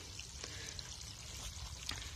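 Water from a farm irrigation pipe raised about a foot above the ground trickles and pours steadily and faintly, with a few soft drip splashes in a quiet outdoor setting.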